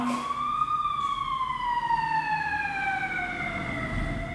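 A police siren wails steadily and fairly loud, its rising-and-falling tone drifting slowly lower over about four seconds, with traffic rumble beneath and no talking.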